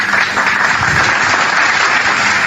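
Dense, steady applause from a crowd, loud and continuous throughout with no pauses.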